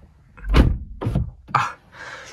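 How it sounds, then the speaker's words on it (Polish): Car door of a BMW E82 coupe swinging and shutting, a series of close thuds and latch clunks in quick succession, followed by a softer muffled rustle inside the cabin. "zamkniemy sobie drzwi."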